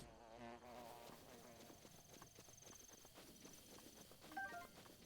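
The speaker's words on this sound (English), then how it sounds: "I guess I had to kill the bees." A faint, steady insect buzz hums from bees in Breath of the Wild on the Great Plateau, continuous and low in level, with a few small clicks and tones over it.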